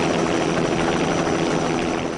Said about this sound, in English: he's chartered a helicopter to run him up the coast to Morecambe.